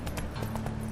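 Horse hooves clip-clopping at a steady gallop rhythm in The Witcher 3, close and continuous over low game ambience.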